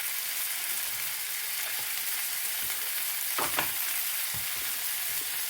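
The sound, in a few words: fish coated in oatmeal frying in butter in non-stick pan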